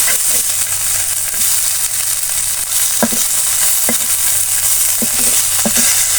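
Dried chepa fish coated in flour fries in a pan with a continuous close sizzle, broken by several sharp stirring scrapes and pops.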